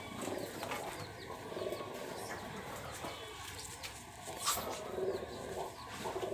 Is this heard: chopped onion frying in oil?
no